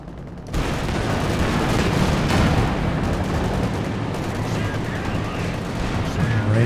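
Dense machine gun fire and explosions from Company of Heroes 2 in a 4v4 battle, a loud continuous barrage of rapid shots and booms with no gaps.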